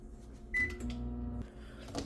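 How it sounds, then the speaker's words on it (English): A microwave oven heating sticks of butter, with a short high beep followed by a steady low hum of the running oven, fairly quiet and close, with no talking. "take your 1½ sticks of butter or 1/4 cup and put it in the microwave for around"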